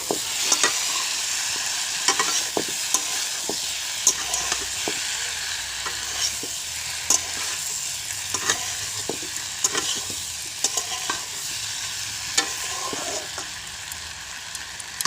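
Cauliflower florets frying in a pan, a continuous close sizzle with frequent sharp clicks and scrapes of a spatula turning the pieces, held steady throughout with no talking.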